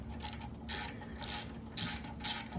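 Ratchet clicking in short bursts while tightening a muffler support clamp on a go-kart being built from scrap, four or five quick runs of pawl clicks close to the mic over a low steady hum.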